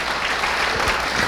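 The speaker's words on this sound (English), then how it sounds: "final round of applause for our wonderful speaker" A final round of applause for a speaker at a talk, a dense, even wash of clapping from the audience that stays loud for the whole short moment.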